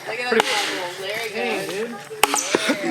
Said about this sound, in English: This is our favorite pastime apparently, chopping wood.